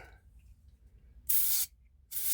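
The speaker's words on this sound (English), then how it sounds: "I'll use that to blow the oil into the bearing" Two short, sharp hissing sprays blow oil into a folding knife's pivot bearing, each burst close and loud, separated by a brief pause of near-silence.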